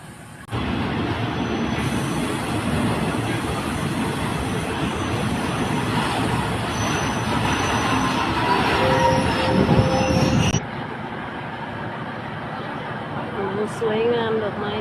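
A train rolls through small Ban Kalan railway station, loud and close, with a steady rumble and high wheel squeal that drops off abruptly after about ten seconds, while people talk over it.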